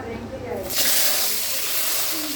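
Chopped onion hits hot oil after fried chicken pieces, bursting into a loud, steady sizzle that holds close and continuous for a couple of seconds.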